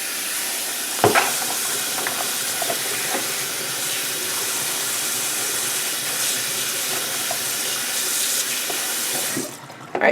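Trimmed green beans are rinsed under a running kitchen tap: a steady, close rush of water lasts about ten seconds, with a brief clatter near the start and the flow cutting off just before the end.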